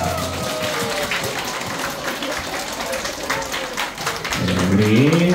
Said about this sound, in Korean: 찬양대 내려갈 때 큰 박수로 한 번 더 격려하겠습니다